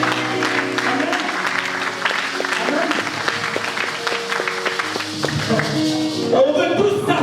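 A church congregation applauds throughout, a dense steady patter of many hands under sustained music and voices, holding at an even moderate level for several seconds.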